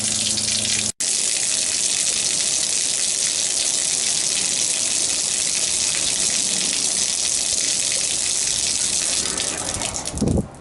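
Water gushes steadily out of an RV fresh water tank during flushing, a loud, continuous broadband rush that runs for the whole stretch after a brief cut near the start.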